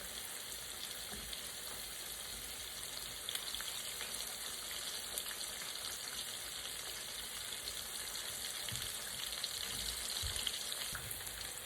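Shrimp for po' boys sizzle and crackle steadily in hot oil, a constant bright frying hiss with occasional pops.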